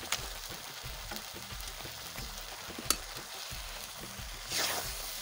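Chicken livers fry in hot oil with cumin, a close, steady sizzling hiss with a sharp crackle near the middle and a brief louder burst near the end.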